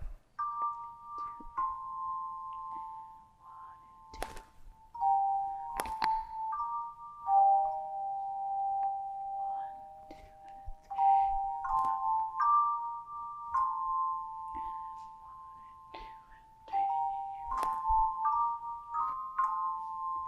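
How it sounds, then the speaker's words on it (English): Handbell choir chimes ring out sustained, mellow tones in a slow melody, several notes overlapping and decaying gently, with occasional faint knocks and handling sounds between phrases. "So may we start and hear just the chimes at 37."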